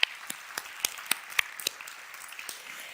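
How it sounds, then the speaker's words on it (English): Sparse, scattered applause from a conference audience for founders after pitching on stage in a big room, individual claps spread unevenly and fairly faint, with no talking. "Let's have a round of applause for all of our founders."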